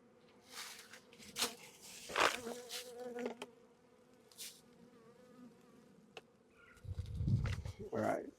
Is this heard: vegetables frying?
no